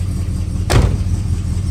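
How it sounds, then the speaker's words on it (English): A 1969 Oldsmobile Cutlass S convertible with a Rocket 350 V8 and automatic gearbox gives a single quick rev over a low, steady idle, a short rising blip that drops straight back to a rumbling tick-over, close by. "Give it a rev. There we go. Not too loud, nothing crazy. Still sounds like a nice old car."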